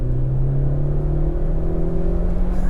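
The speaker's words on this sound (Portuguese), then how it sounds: "Vamos lá acelerar aqui uma segunda." An Opel Corsa GSI engine pulls in second gear, a steady, loud drone whose pitch climbs gradually as the revs build, heard alone without voices.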